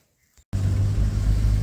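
A car engine starts up suddenly after a near-silent pause, then holds a steady, loud low rumble as the vehicle drives from a forest hunting spot back toward camp.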